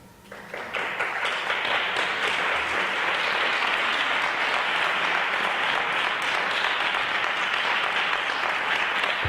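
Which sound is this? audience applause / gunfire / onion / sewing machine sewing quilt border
audience applause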